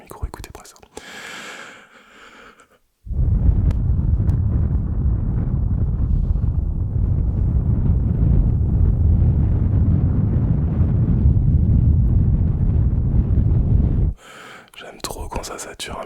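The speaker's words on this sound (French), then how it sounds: "J'aime tellement le souffle sur le micro, écoutez-moi ça." Breath blows directly onto a microphone in an ASMR session, a sustained, loud, rushing roar of air lasting about eleven seconds, framed by brief soft sounds before and after.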